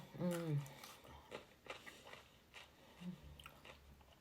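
Someone eating a meal close to the microphone, with soft bites and moist chewing sounds, crunches spread through a quiet room, and brief vocal sounds in between.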